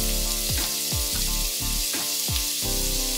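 Finely chopped onions frying in hot ghee, a continuous bright sizzle with recurring low thuds and knocks as they are stirred in the pan, close and even, with no talking.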